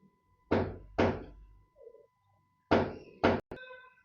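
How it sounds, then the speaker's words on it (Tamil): A door shut in the horror video game Granny Chapter 3 gives several sharp, loud thuds in two pairs, separated by short pauses, with a faint tonal hum and brief chirps between them. "கதவை சாத்திடு."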